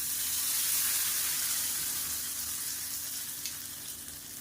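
A hot tempering of mustard seeds, urad dal, dried red chilli, curry leaves and asafoetida sizzles as it is poured into black urad dal chutney, a steady close crackling hiss that slowly eases off, with no talk.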